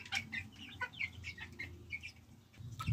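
Several chickens cluck in short, repeated calls close by while being fed, with a louder burst of flapping or movement near the end.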